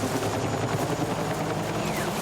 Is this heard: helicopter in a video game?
yes